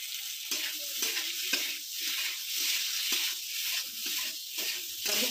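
Boiled potatoes stirred into ground spices in a hot pan for a potato curry, rhythmic spoon scrapes repeating about once a second over a soft constant sizzle, close and fairly quiet, with no one speaking.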